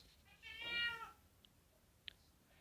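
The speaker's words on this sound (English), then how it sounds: "So you can hear to the meows of my cat." A cat gives one clear, drawn-out meow at a moderate distance, followed by a faint short chirp and a small click in an otherwise quiet room.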